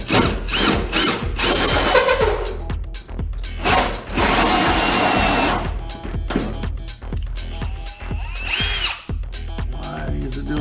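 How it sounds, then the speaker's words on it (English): A power drill fitted with a new bit bores into the metal of a 1938 Chevy truck, whining loudly in several long bursts with short pauses and a few clicks between them, close to the microphone. "So I got myself a new drill bit in there,"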